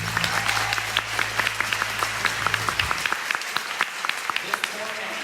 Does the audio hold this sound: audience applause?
yes